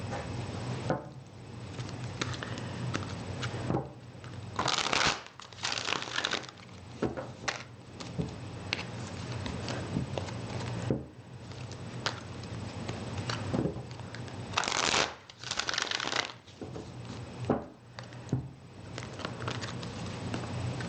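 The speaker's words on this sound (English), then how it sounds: "One more shuffle." A deck of cards is riffled and bridged in repeated bursts, crisp fluttering rattles separated by quieter handling, close and dry with no talk.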